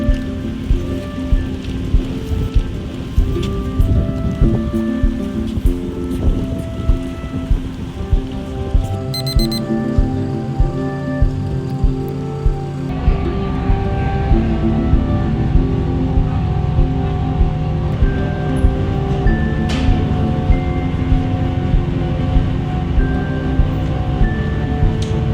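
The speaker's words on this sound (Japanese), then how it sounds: "水の音だ。" Water at the sea's edge on Hatsushima island, a steady loud wash with small repeating splashes running through the whole stretch, with tonal hum layered underneath.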